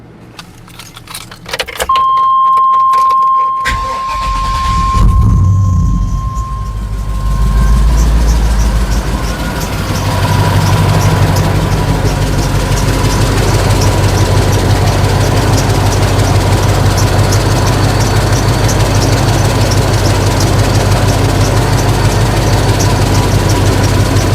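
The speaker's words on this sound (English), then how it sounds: "Please start the engine." A car engine cranks briefly, catches and settles into a steady, loud idle during a battery crank test, with a rattle of keys at the ignition just before it starts.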